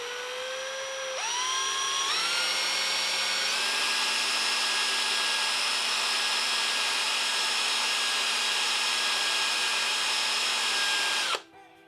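A power drill spinning a polishing ball on metal whines steadily at high speed for about ten seconds, pitch rising as it spins up, then cuts off abruptly.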